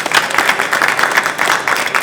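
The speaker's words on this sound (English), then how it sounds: "Please, give him a clap." A conference crowd at a business talk gives a loud, dense round of clapping, many hands close together and continuous across the short stretch.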